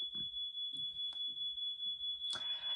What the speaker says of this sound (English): my smoke alarm has gone off about 5 times